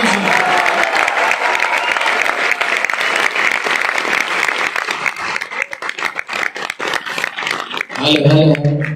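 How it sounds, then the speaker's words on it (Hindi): An audience at a motivational orientation session claps in loud, dense, sustained applause that fills the room, then breaks off as a voice comes in at the end. "कम से कम तालियां इतनी तो बजाओ"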